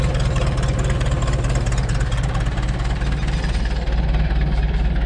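A 1972 McCormick International B276 tractor with a 37 hp engine idles steadily, a loud close low rumble with an even knocking beat, alone without talk.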